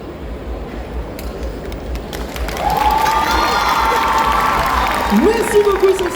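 Applause and cheering rise from a convention audience at a cosplay contest award ceremony in Lille, swelling after a few seconds into a steady wash of crowd noise with a whistle-like tone near the end.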